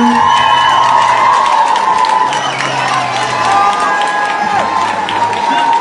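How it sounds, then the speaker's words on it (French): An outdoor crowd in Portiragnes applauds and cheers a violinist, producing steady dense clapping with whoops and shouts throughout, loud and continuous. "Applaudissez-le."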